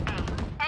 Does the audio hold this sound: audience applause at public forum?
no